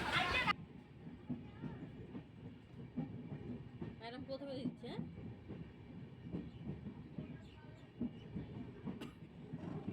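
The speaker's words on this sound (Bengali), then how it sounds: "তো এবার ওয়েট করছি কতক্ষণে দাঁড়াবে ট্রেনটা" A faint, distant train rumbles in steadily, a low continuous clatter with a brief squeal as it slows; no voices.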